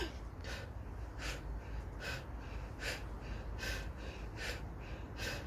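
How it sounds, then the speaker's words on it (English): Someone breathes hard during a cardio workout, with faint, regular puffing exhalations repeating about once a second. "I'm actually breathing this way."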